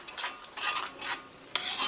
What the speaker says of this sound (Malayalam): ഇനി ഇത് നമുക്ക് തുറന്ന് വെച്ചിട്ട് ഇങ്ങനെ ഇളക്കി കൊടുക്കാം